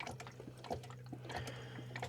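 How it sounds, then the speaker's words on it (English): RV antifreeze pours down a sink drain with a steady liquid gurgle and splash, close and continuous for a couple of seconds. "that's what's being poured down this drain"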